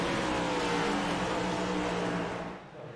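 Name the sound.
race cars revving at restart in iRacing video game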